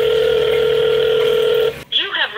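A telephone line plays a steady, loud dial tone that breaks off into a short burst of dialing tones as a call is placed.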